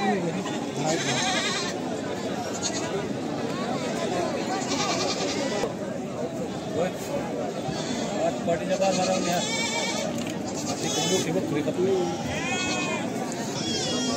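Goats bleat repeatedly amid a busy, noisy crowd at a goat market in Lonand, Maharashtra, with people talking throughout and the calls rising over the din.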